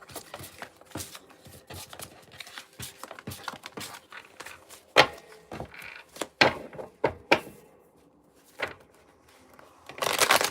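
Cards being shuffled up close: rapid crisp riffles and taps, with a louder flurry of shuffling at the end, no talking.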